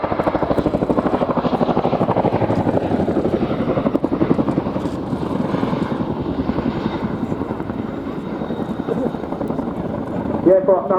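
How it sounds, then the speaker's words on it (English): A Chinook twin-rotor helicopter performs its 2022 flying display at the Royal International Air Tattoo, a loud continuous rotor throb and engine roar close by, with a voice talking over it throughout. "I'll give you the 2022 Chinook display."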